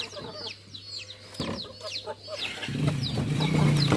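Naked neck chickens cluck repeatedly and close by, a busy run of short clucks and chirps over a steady low hum that grows louder toward the end.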